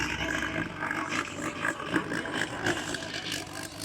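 A motorcycle engine roars loudly and continuously at a rowdy car meet, its revving exhaust blending with nearby traffic noise.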